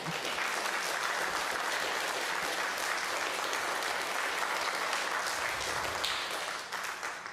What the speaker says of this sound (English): Just give them a cheer.